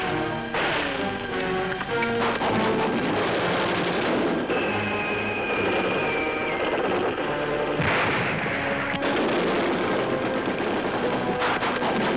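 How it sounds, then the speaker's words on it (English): Rapid-fire anti-aircraft batteries in a 1943 wartime newsreel, loud repeated booming gunfire in quick succession over a dense, hissy old recording, with a faint voice at moments. "Rapid-fire anti-aircraft batteries that are helping keep the skies clear of enemy"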